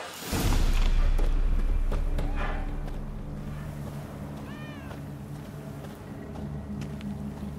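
Cat meowing in The Witcher 3: Hearts of Stone, a thud at the start followed by a short, clear meow partway through over a low steady game ambience.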